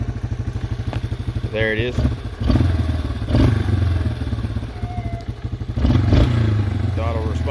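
A rebuilt Yamaha Wolverine ATV engine idles with a rapid, close-up chug, then revs in several sharp throttle bursts that rise and fall, with someone speaking briefly between them.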